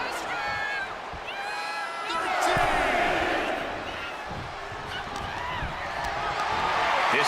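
Crowd at a WWE Raw wrestling match featuring Jacob Fatu, with a loud, sustained arena roar that swells midway, scattered shouts and whistles rising above it.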